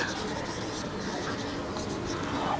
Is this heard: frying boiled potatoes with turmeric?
no